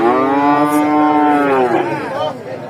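A heifer at a livestock market gives one long, loud, drawn-out moo close by, which falls away toward the end over faint background noise.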